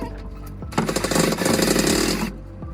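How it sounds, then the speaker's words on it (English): A Work-X power drill whirs loudly for about a second and a half, then spins down, with brief handling clatter before and after. "we're back with a piece of crap drill now"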